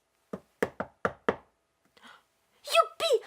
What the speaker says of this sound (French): On vient de cogner à la porte!